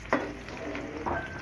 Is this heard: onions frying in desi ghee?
yes